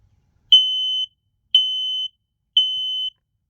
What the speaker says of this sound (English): So that is a smoke alarm installed in the attic